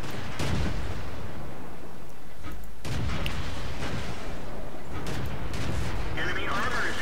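Tank cannon fire in World of Tanks as a shell punches through enemy armor, heavy booming blasts over a constant rumbling battle din, with a voice talking through it.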